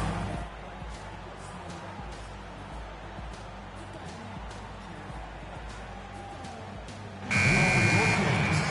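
Buzzer sounding at the end of a quarter in the NBA 2K15 basketball video game, a loud burst near the close over steady crowd and arena noise with commentary talk.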